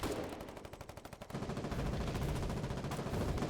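Gunfire in the war video game Foxhole: a rapid, dense burst of automatic shots with more firing and rumble continuing steadily, loud throughout.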